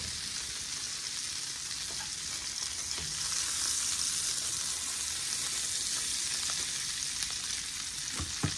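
Steak frying in a pan, a continuous even sizzle with small pops and crackles close to the pan, steady throughout with no talking.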